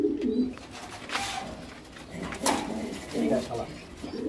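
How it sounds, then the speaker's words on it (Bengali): Racing pigeons coo close by in soft, throaty bursts that repeat at uneven intervals against a low background murmur. "এগুলো দুর্দান্ত রেজাল্ট করা কবুতর"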